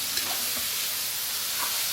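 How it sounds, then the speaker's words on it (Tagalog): Marinated meat sizzling in a hot frying pan while being stirred, a steady, bright hiss of frying oil with faint scraping touches, close and continuous. "Halo lang hanggang matuyo-tuyo"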